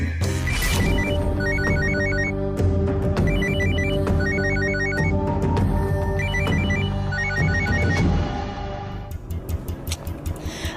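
Arjun's mobile phone rings loudly with a repeating melodic ringtone that plays in regular bursts, then cuts off near the end and leaves some scattered knocks.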